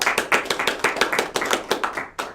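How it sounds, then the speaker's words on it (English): A small room applauds guest author Raph Koster at a gamers book club, about a dozen sharp, distinct hand claps in an uneven rhythm, close and fairly quiet, with no talking. "let's in this room give Ralph a round of applause"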